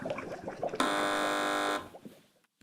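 A game show buzzer on a TV panel quiz sounds once, a loud harsh electronic tone held for about a second, cutting through the murmur of the studio audience.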